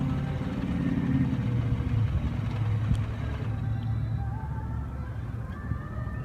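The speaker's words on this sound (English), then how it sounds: "hold the engine start button for a couple seconds until the engine starts" A 2016 American muscle car engine idles with a steady, loud low rumble that holds evenly throughout, with no voices over it.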